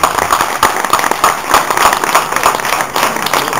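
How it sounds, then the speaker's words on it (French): Audience applause for a Saumur school team at a 2011 Loire wine student sommelier competition, a steady wash of many hands clapping throughout with faint voices mixed in. "Alors, applaudissements pour l'école de Saumur."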